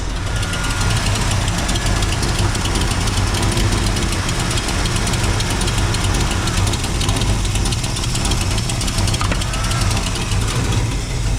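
A 1956 Chevrolet Bel Air V8 idles loudly and steadily during carburetor tuning, a constant close rumble with a slight uneven knock and no voices over it.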